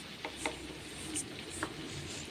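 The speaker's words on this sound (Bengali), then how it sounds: "দিয়ে এটাকে একটু ভালো করে কষিয়ে নিই" Kashmiri and regular red chili powder masala fries in a pan, a soft steady sizzle with a few light stirring taps, quiet and close.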